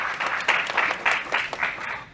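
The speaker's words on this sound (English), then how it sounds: "Let us give Jan a round of applause." A short burst of audience applause at a panel discussion on city finances, close and fairly loud clapping with a gently pulsing rhythm throughout.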